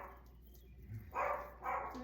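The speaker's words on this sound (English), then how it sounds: "I can hear chihuahuas barking." Two short bursts of distant chihuahua barking from outside, a beat apart, faint against a low background hum.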